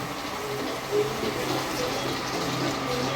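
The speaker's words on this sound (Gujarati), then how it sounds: "એનું ત્રણ ગણું અહીંયા પાણી લઈ લીધું છે તે એડ કરી દો નાખી દો" Water poured into a pot for khichdi, a soft continuous splashing trickle at moderate level with one brief louder slosh near the start.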